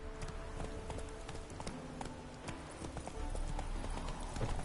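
Roach the horse's hooves clip-clop at a steady walking rhythm on a road in The Witcher 3, set against continuous game ambience and music, growing a little louder toward the end.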